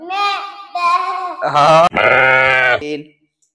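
A voice imitating a sheep, several drawn-out wavering baa bleats in quick succession, loud and close.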